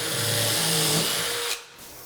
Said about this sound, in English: So then you can just drill a hole,